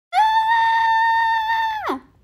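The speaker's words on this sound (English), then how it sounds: "from inside the cabin, there was a loud scream" A loud, sustained high-pitched scream from inside a cabin in an animated story, one long held cry that drops sharply in pitch at the end, close and alone.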